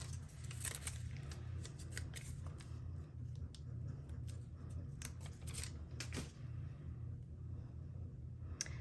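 Scissors snipping off ribbon or paper tails during a paper craft project, a quick run of close crisp cuts over a low steady hum, with no talking.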